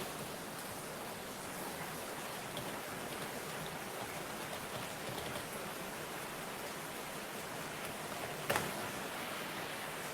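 Heavy rain pouring down in Kochi, a steady dense hiss that holds constant throughout, with one brief sharp knock near the end.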